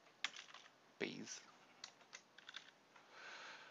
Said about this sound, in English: If we just type in Extrabees.